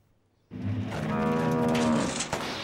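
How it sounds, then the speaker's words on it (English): A cartoon car that has broken down lets out a long, loud cow-like moo that starts abruptly and holds for about two seconds, with no talking. "the car is making mooing noises"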